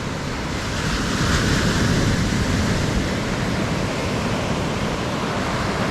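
Surf rolls steadily onto the sand at Putiri beach, a hidden cove near Barra do Sahy, a loud, continuous wash of breaking waves with some wind buffeting the microphone and no voices.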